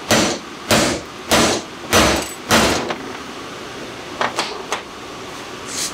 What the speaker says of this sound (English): Use this tool that you can rent at any auto parts store, and you just hammer it down until it stops.